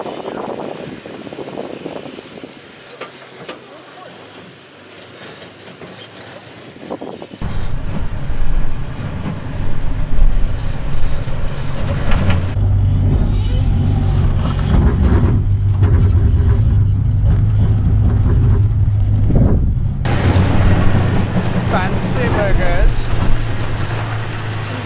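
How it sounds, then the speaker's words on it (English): A Toyota truck crawling off-road in crawl control mode at Cleghorn, a steady low engine drone and rumble with wind buffeting the microphone, while someone talks over it throughout. "Now truck's doing its thing."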